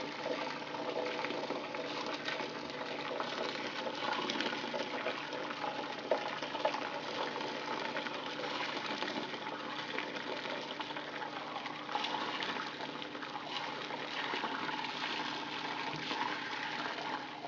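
Homebrew wort is poured and strained through a strainer, making a continuous, even trickling and splashing of liquid, fairly quiet and steady with no talk.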